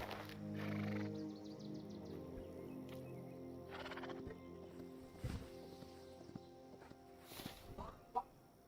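A horse in the video game Hytale whinnies near the start, with clip-clop hooves and footsteps following, scattered rooster-like fowl calls and a sharp knock near the end, over a steady layered game ambience.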